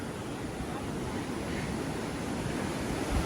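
Ocean surf at Cocoa Beach, a broad steady rush of waves with wind noise across the microphone, continuous and unbroken with a slight swell near the end.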